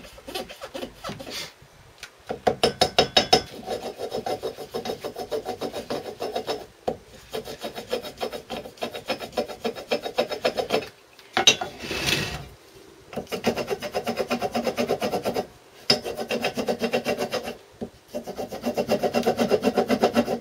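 A port hole being cut out of a thin gasket for a Villiers WX-11 two-stroke stationary engine, heard as close, bursty rasping and scraping strokes broken by short pauses.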